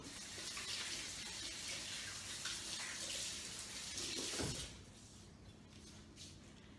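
Running tap water splashing steadily over hands at a sink for several seconds, then cutting off abruptly, leaving a faint quiet room.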